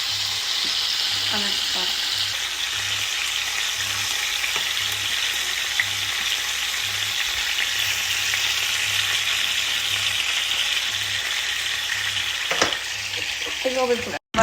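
Breaded chicken pieces frying in a pan, a steady close sizzle throughout with light clatter as the pieces are turned over and a brief spoken remark.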